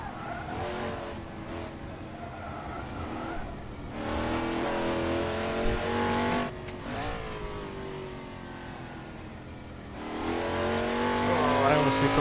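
Historic race cars lapping a track in the Assetto Corsa racing game, engines revving and shifting through gears close up, with tyre squeal and passing cars, all under steady commentary.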